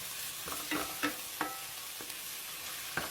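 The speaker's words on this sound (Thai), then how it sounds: "เชฟจะเติม กะทิลงไปอีก 3 ช้อนโต๊ะครับ" Red curry paste fries with coconut milk for a pork stir-fry: a steady close sizzle with several sharp scrapes and knocks as a utensil stirs the pan.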